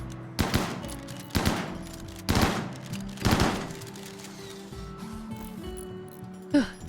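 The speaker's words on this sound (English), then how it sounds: "I feel like the gunshots are really loud compared to all the other sounds." Gunfire in a colony-building video game: four loud, sharp bursts spaced about a second apart, then a quieter stretch and one final shot, with faint background game sounds between.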